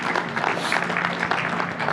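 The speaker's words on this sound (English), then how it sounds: "Round of applause for that," An audience at a contractor summit claps in a dense, steady burst of applause filling the short stretch, with no talking over it.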